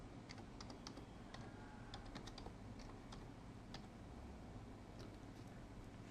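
Fingers type on a computer keyboard, a soft, steady patter of irregular clicking keystrokes over a low background hum, with no voice.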